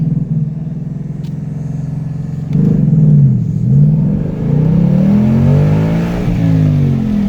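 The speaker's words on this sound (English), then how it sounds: "So I'm going to rev it up and do a slip." A 2018 car with an MT82 manual gearbox idles with a steady low drone, then revs up sharply as the clutch is slipped, the engine note rising and wavering loudly and close by for several seconds.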